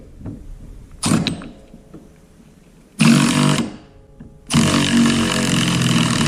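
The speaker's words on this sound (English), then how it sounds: "So this is my 1/2-inch drive with a 24mm socket on the end of it." Ratchet work with a 1/2-inch drive and 24mm socket tightening a strut mount on a 2014 Chevy SS: a brief rattling burst, then two longer loud stretches of close, rapid clicking, with no talk.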